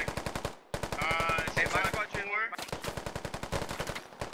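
An exchange of automatic fire in the Squad video game, with sustained rapid bursts of shots, a short pause, then more continuous shooting while radio-style voices talk over the middle.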